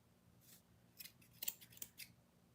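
Scissors snip through paper loops for a wild-one birthday party craft, a few crisp, close cuts coming in short bursts over a quiet room.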